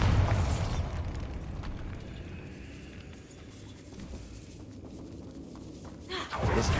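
A Bombarda spell explosion in the video game Hogwarts Legacy: a booming blast opens, followed by a low, faint rumble, then a second burst near the end.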